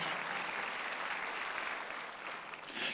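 Applause from a church congregation at a Sunday worship service, a soft, continuous patter of many hands clapping at a distance, steady throughout and fading slightly near the end.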